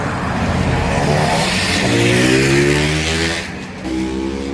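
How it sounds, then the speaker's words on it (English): A loud engine roars close by, its pitch rising and sweeping as the vehicle passes, then dipping briefly before droning on. "that motorcycle's loud."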